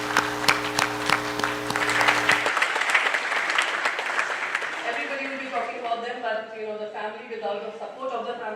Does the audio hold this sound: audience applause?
yes